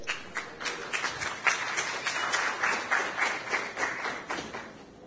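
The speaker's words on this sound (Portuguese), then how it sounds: "Parabéns! Palmas para ele." Audience applause at a free-software conference talk, a steady patter of many hands clapping from start to finish with small swells, no voices over it.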